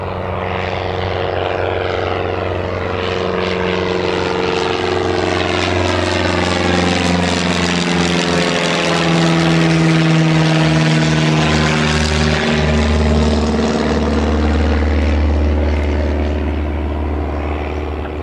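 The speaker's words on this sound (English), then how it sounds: "Just quickly show you this prop that's going out" A propeller airplane departs Newcastle Airport, its loud engine drone and prop buzz rising and shifting in pitch as it passes, steady and powerful throughout with no one speaking.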